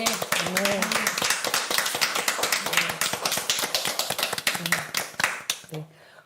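Church congregation applauding after a prayer, a dense close burst of hand claps that fades out near the end, with voices speaking over and between the claps.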